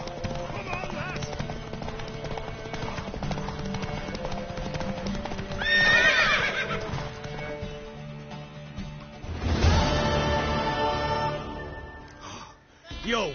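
In The Witcher 3 video game, hooves clip-clop steadily while people talk, and a horse lets out two loud whinnies, one in the middle and one near the end.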